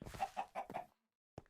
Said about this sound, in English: Those chickens are so loud.